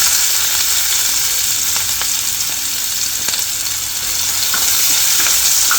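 Sliced onion drops into hot oil already seasoned with asafoetida and cumin in a home kitchen, giving a loud, continuous close-up sizzle with occasional crackles and pops throughout.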